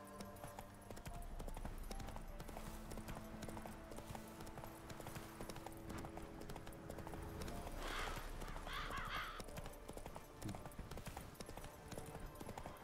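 Steady clip-clop of the horse Roach's hooves in The Witcher 3, a continuous trotting rhythm with a brief neigh partway through, set against game ambience.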